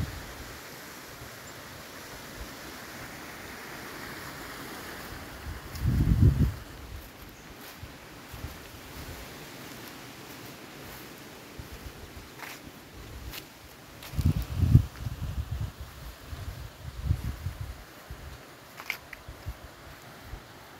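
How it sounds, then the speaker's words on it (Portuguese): Wind blowing across a farm hillside, a soft continuous rush with low gusts buffeting the microphone in a few bursts and faint rustling in between. "O vídeo de hoje é o vento em minha roça."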